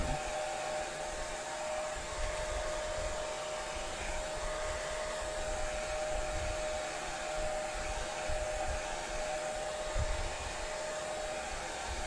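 A hair dryer blows steadily on a decoupage craft piece, a constant whirring rush with a steady tone that holds unchanged throughout, alone and fairly loud.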